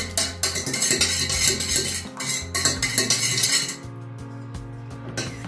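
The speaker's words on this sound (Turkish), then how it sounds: "Ve bunları çırpıyorum." Water and oil are whisked together in a bowl for a börek filling, making a fast, steady run of metallic clinks and scrapes from the whisk. The sound stays close and busy, then eases slightly near the end.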